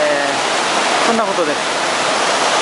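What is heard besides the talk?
large waterfall (Yaken waterfall)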